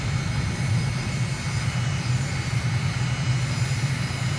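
Aircraft engine in a flight game, throttled back on landing approach, a steady low droning hum that stays constant throughout with no voices.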